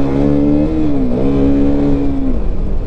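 Traffic jam on a busy Kashmir road during Ramazan, cars idling and passing close by in a steady loud engine drone with one rising and falling tonal whine, no talk.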